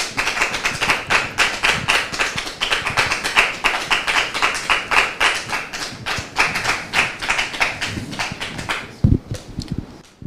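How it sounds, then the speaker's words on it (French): Audience applause welcoming a guest onto a stage, loud close rhythmic clapping in a fast regular beat, nearly in unison, tapering off near the end with a few scattered claps and thumps. "Sous vos applaudissements, s'il vous plaît."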